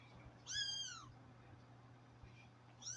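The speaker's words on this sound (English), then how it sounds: "He's literally the only one meowing." A pet cat named as a scary Halloween kitty meows twice indoors, a clear rising-falling cry then a shorter one near the end, fairly near and alone over a faint steady hum.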